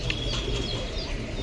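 Pigeons coo softly and steadily, a low continuous murmur among the birds of a Punjabi madrasi pigeon flock with occasional faint chirps.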